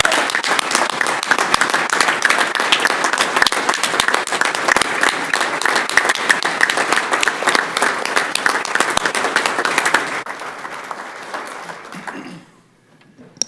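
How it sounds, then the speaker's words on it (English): Applause fills a city council meeting room, steady dense clapping from the audience lasting about ten seconds before thinning out and stopping, with a brief murmur of talk at the tail. "let's just give them another round of applause"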